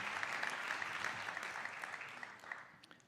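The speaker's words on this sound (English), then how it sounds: "let's give him a round of applause." Audience applause at a Global Citizen Now event, a steady wash of clapping from a crowd that carries through and thins slightly near the end.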